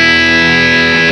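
A distorted electric guitar tone from a POD Farm amp simulator with a noise gate rings as a single sustained, loud, saturated chord, alone with no talking.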